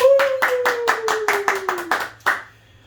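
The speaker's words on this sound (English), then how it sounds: "You're not gonna clap for Steve?" A small studio group on the Hot Ones set claps for guest Steve Wolf with about a dozen close, distinct hand claps in a loose rhythm. A sustained, slowly falling voice runs beneath them, and a final lone clap ends it.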